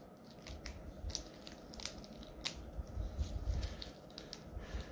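Scissors snip through plastic packaging from an AEW Unrivaled wrestling figure, a series of close, crisp cuts and crinkles over a low rumble, with no talking.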